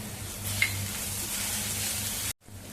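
Ginger, garlic, chili paste and turmeric sauté in hot oil, giving a soft, steady sizzle that runs evenly before cutting out briefly near the end.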